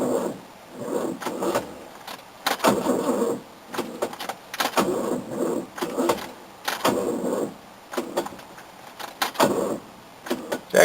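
An old Datsun engine cranks over repeatedly in rhythmic bursts, each surge of the starter churning for a second or so between short gaps, with a few uneven catches as it begins to fire.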